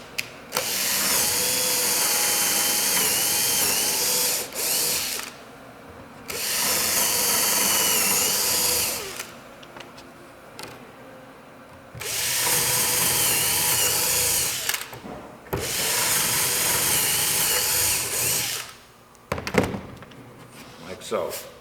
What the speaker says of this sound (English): Take the drill.